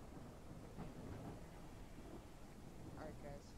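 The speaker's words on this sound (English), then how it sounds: "And it's starting to storm." Thunderstorm weather in a multiplayer firefighting video game during a high-rise fire response: a low, steady rumble with rain-like hiss that runs throughout, fairly faint, with a few brief tonal sounds near the end.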